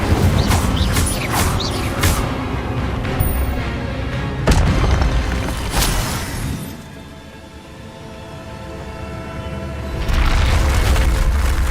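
Incendio fire spell cast in the wizarding video game Hogwarts Legacy, a dense roaring whoosh with sharp bursts and booms, fading briefly before swelling loud again.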